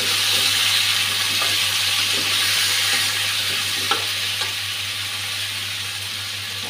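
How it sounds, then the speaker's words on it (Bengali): Ground turmeric and cumin fry with sweet pumpkin in a pan, giving a steady close sizzle with occasional stirring scrapes and soft clinks throughout, and no one speaking. "মশলাটা ভাজা হয়ে গেছে মিষ্টি কুমড়োর সঙ্গে।"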